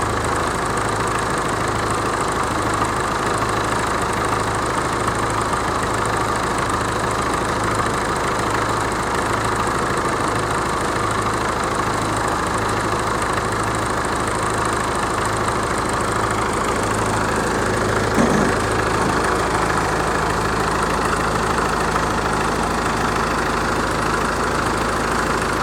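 A standby generator engine idles in a partly built shed, a steady close mechanical drone with a low pulsing throb and one brief knock near the end, with no voices.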